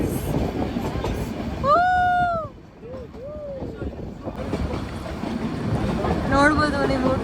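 The Ooty toy train runs along with a continuous rumble and wind noise, and a high whistle sounds partway through; voices are heard over the train.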